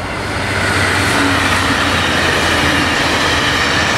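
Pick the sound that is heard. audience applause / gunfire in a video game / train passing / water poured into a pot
train passing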